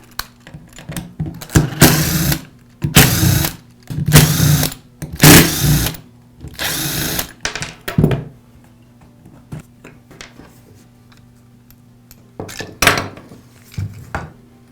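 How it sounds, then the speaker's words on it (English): Plastic halves of a DeWALT angle grinder's rear housing being pried and pulled apart by hand, giving a run of close, dry clicks, creaks and scraping bursts, then a pause and a couple more scrapes near the end. "I'll separate the two halves of the rear housing"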